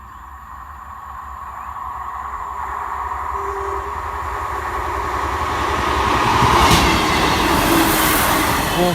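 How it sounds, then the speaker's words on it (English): Train approaching and passing Staythorpe level crossing, a rising rail rumble that builds gradually and peaks near the end with wheel and track noise, no voices present. "Nothing and nobody except the train."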